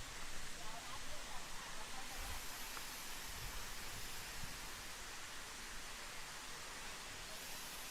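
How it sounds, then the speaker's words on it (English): Erawan Falls in Thailand, a large waterfall seen from a little way off, giving a faint, even hiss of falling water that runs unbroken with no clear voices. "So that waterfall over there is much larger than the one that was just a few feet downstairs"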